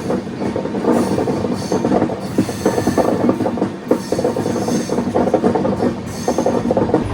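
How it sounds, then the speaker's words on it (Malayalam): A long-distance passenger train from Thiruvananthapuram toward Mumbai, heard from inside a 2AC coach, moves slowly past track works. Its steady rumble carries clickety-clack wheel beats and faint squeals, loud and continuous, with no talk. "അപ്പോൾ അതുകൊണ്ട് ട്രെയിൻ വളരെ പയ്യാണ് പോകുന്നത്."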